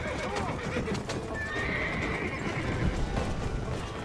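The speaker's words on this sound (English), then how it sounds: "My horse is getting cranky because I was hitting A too hard." A horse whinnies while its hooves pound in a steady gallop during a race in the Red Dead Redemption video game, loud and close over continuous game noise.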